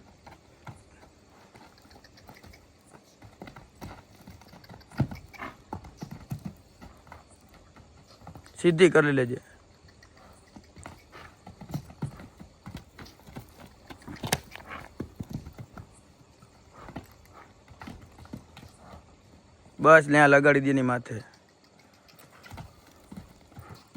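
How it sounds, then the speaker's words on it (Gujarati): A mare's hooves clip-clop on the ground as she jumps carrying a rider's weight for the first time, with two loud neighs breaking out amid the steady hoofbeats while people talk nearby. "પહેલી વખત ઉપર બેસીને વજન હોતા ઘોડી કૂદે છે"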